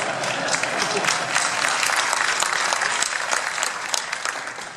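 An audience at a 2012 Intel developer conference breaks into dense, loud applause, a continuous wash of clapping that holds steady and tapers slightly toward the end.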